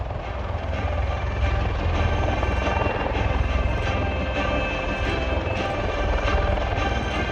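A USMC MV-22 Osprey tiltrotor hovers and drifts backwards at an air show, its loud, steady rotor and engine roar filling the whole stretch with a broad, unbroken wash of noise.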